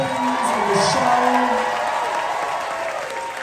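Comedy show crowd in Houston applauding and cheering for drag queen performers, a dense sustained wash of clapping with whoops and shouts, loud at first and slowly tapering off.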